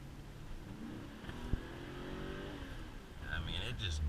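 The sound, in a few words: Mercedes SL500 driving with smooth upshifts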